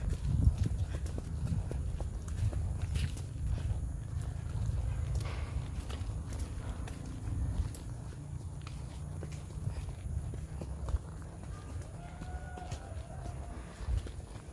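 A horse named Cookie walks along during a horseback ride, its hooves clip-clopping in a steady rhythm, close and continuous, with faint talk and a low rumble in the background.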